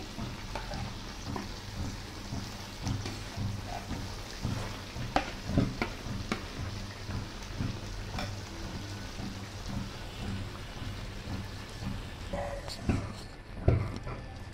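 Mango pieces go into a pan of hot oil for a mango-garlic pickle, then sizzle and crackle steadily. Scattered stirring clicks and spatula knocks run throughout, with a louder knock near the end.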